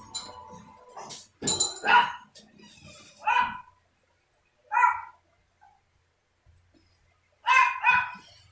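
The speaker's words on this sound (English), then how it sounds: "So you'll hear him barking in the background" A small dog barks in short bursts, several sharp yaps spaced apart with pauses between, fairly close, answering a neighbor's dog, with some faint clinking in the background.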